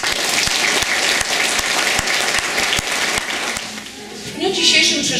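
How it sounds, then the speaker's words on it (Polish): Warm applause at a school year inauguration ceremony in Biała Podlaska, welcoming first-time pupils; loud sustained clapping from a crowd that thins out near the end as a voice begins speaking. "To dla Was, kochani, teraz gorące brawo."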